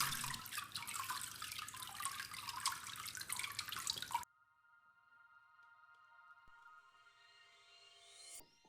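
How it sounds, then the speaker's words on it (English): Water dripping from a papermaking mold and deckle, a framed screen with paper pulp resting on it, first in a dense close spatter, then slowing to sparse faint drips. "allowing the pulp to form on top while the water drips out"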